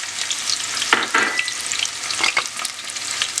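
Onions frying in hot oil in a pan, a loud dense hiss with bursts of crackling spatter, close and unbroken, with no voices.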